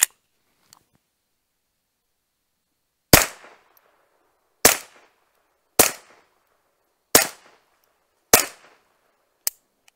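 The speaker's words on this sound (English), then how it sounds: "I'm going to shoot this first group here on camera." Grand Power K22 X-Trim .22 pistol fired at a range: six sharp, separate gunshots spaced about a second apart, each a crisp crack with a short decaying tail, after a quiet opening.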